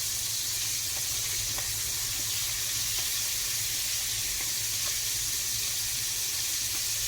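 Pieces of chicken fry in a pan, giving a steady, even hiss and crackle of hot oil with faint scattered pops, moderately loud and continuous, with no talking.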